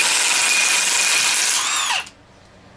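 A power tool spinning a socket on a Chevy Silverado K2500 front hub, removing wheel studs with a loud whining run of about two seconds, then stopping abruptly into near silence.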